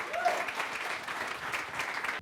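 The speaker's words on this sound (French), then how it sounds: "l'applaudir de nouveau parce qu'elle le mérite, évidemment." Audience applause at a business export event, a short steady round of clapping from a seated crowd at moderate distance, ending abruptly.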